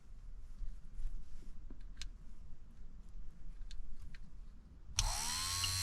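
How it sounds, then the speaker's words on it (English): A car wiper motor with its wires reversed starts abruptly after a few seconds of quiet room noise and spins up into a loud, steady, high whirring whine. "And now it's turning counterclockwise and faster"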